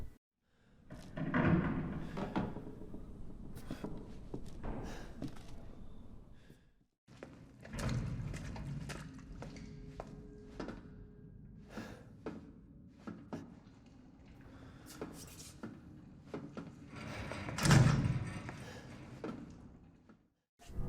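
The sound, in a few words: creaking wood and banging metal from Resident Evil 7 video game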